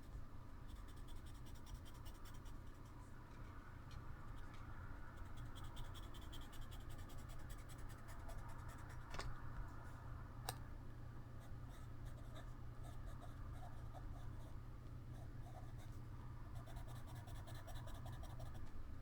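A Derwent dark charcoal pencil scratches steadily across paper, making a close, continuous dry rasp with a couple of sharper scrapes, quiet and alone without any voice.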